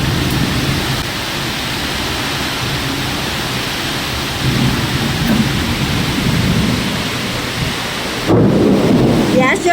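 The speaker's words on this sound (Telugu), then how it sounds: "గాలి వర్షం అన్నమాట." A heavy rainstorm with strong wind pours down steadily and loudly, with deep thunder rumbling through the dense roar of rain.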